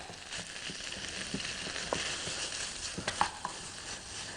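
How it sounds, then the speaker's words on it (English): Tofu pieces of different shapes and sizes stir-frying in a pan, a steady close sizzle with light scraping and tossing sounds, no talk. "And I'm going to toss in tofu, different shapes, sizes."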